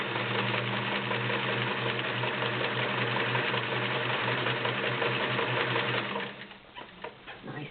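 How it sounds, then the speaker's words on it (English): A vintage Kenmore model 1753 cam sewing machine runs steadily as it stitches zigzag, a loud continuous mechanical whir with a fast rhythmic clatter for about six seconds, then stops, leaving a few faint clicks and handling noises. "Nice zigzag."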